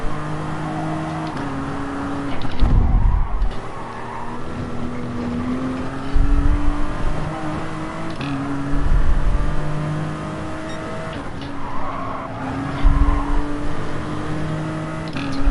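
Twin supercharged V12 race car at Le Mans in Gran Turismo Sport, roaring loudly with engine pitch climbing through each gear and dropping at the shifts, a sustained, close drone with no voices.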